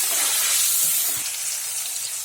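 Masala paste fries in oil for an eggplant fish curry, making a dense, bright sizzle with a few soft stirring knocks; the sound is close, loud and short, with no voices.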